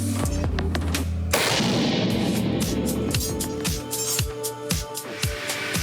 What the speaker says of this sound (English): How many rounds do you think you shoot like on an average day, Chris?